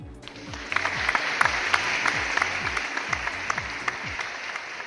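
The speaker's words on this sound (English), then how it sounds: "a warm round of applause" A conference audience applauding steadily for several seconds as a speaker joins the stage, dense clapping from many hands that holds at an even level throughout.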